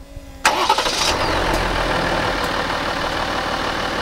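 A Jeep engine on the Rubicon trail cranks and catches at once after its fuel pump has primed, then settles into a loud, steady, rumbling idle close to the microphone.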